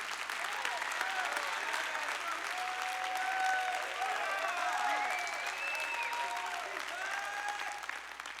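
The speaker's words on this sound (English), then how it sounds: "Clap your hands and shout" A church congregation claps and shouts during a sermon, with sustained applause mixed with whoops and raised voices throughout, moderately loud and continuous.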